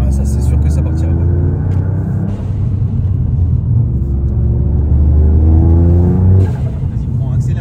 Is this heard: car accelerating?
yes